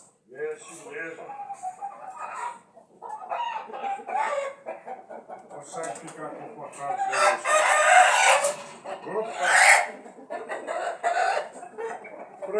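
A rooster clucks and then crows loudly up close, its calls mixing with someone talking nearby, and a strong burst of crowing stands out near the end.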